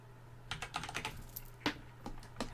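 Keys tapping on a computer keyboard in quick irregular bursts, close and fairly quiet, with a steady low hum underneath and no talking.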